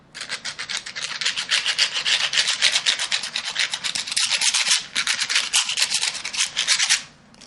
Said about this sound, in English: we like to take it and rub it like this. If you listen very closely, you can hear it scratching across